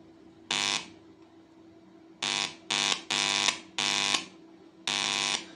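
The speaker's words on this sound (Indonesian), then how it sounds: "Nah ini di speaker akan bunyi." A speaker on a home-built CB radio kit gives out a test tone: six loud, steady buzzing beeps at uneven intervals, some short and some longer, with quiet gaps between them and no voices.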